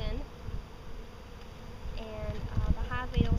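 Honey bees hum and buzz around their hive in a steady, close drone, with someone speaking over it in the last part.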